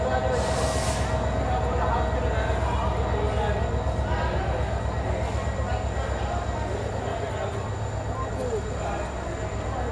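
The 17641 Narkher Intercity Express departs Dharmabad station with a steady, loud, continuous rumble of wheels and carriages that barely changes for the whole stretch.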